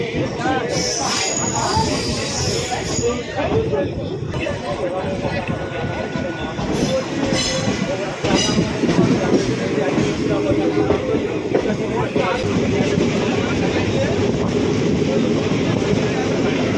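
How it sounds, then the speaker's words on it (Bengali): The 18409 Sri Jagannath Express pulls out of Kharagpur station, heard from inside the coach as a steady, loud rumble and rattle of wheels and carriages, with faint passenger chatter underneath. "সময় 9:10 এই মুহূর্তে আমাদের ট্রেন ছাড়লো খড়গপুর স্টেশন থেকে একদম অন টাইমে"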